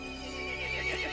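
A horse in the Resident Evil Village video game lets out a sustained, shrill whinny over a continuous game soundscape, moderately loud.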